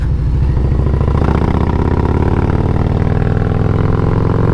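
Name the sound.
engine with Wood 22XE cam accelerating onto interstate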